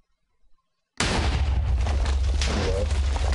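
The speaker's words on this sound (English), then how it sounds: "Back up, so we can see the full explosion." A lava bomb from the More Explosives mod detonates in Minecraft 1.1, a sudden loud blast after near silence that rolls into a sustained, dense rumbling roar lasting several seconds.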